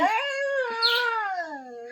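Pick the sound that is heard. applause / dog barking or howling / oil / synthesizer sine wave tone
dog barking or howling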